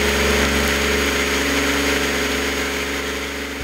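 A Miller Trailblazer 325 diesel welder generator runs at a steady 2400 RPM, a loud, continuous mid-pitched engine drone that holds constant close by with no talk over it.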